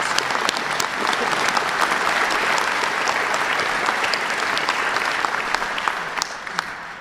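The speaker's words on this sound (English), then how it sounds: "Please give him a round of applause." A rally crowd at an end gun violence event in Pennsylvania applauds Governor Wolf, dense sustained clapping close and loud for several seconds, easing slightly near the end.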